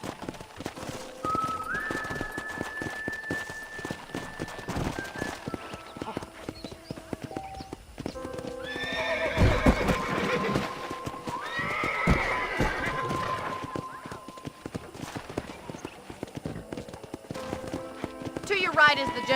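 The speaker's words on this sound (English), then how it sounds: "let's see if you can still ride a horse." Horse hooves clip-clop steadily at a ride in the Red Dead Redemption video game, with whinnies and neighs rising midway, a whistle earlier, and game music and voices talking throughout.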